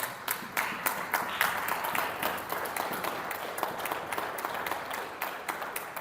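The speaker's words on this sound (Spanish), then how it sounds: "Denle un aplauso al Rey, por favor." A church congregation applauds for the King during a sermon on the resurrection, a lively crowd of distinct, rapid claps in a steady ongoing patter, fairly close and continuous.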